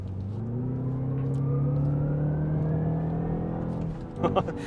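Synthetic virtual engine sound of a BMW 530e in sport mode rising smoothly in pitch as the car accelerates, a steady humming tone, then a brief clatter at the end.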